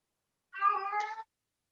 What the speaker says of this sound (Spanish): Van a disculpar si al fondo oyen a mi gatita gritando